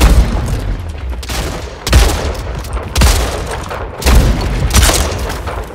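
Gunfire in the arena shooter Splitgate: repeated loud bursts of shots and booming impacts in clusters about a second apart, close and punchy, with no talking.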